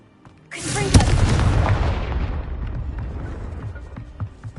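A Confringo spell explosion in the Hogwarts Legacy video game, a single loud, close boom that bursts in suddenly and rumbles down over several seconds.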